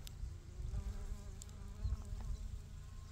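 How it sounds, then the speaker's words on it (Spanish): A bee buzzes close by among flowers with a low, wavering drone, faint and continuous amid soft outdoor background noise. "Miren ahí cómo está trabajando la abeja."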